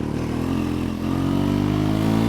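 Triumph Scrambler 400X motorcycle accelerating in second gear on the road, its engine note rising steadily and loud, close, with no talk.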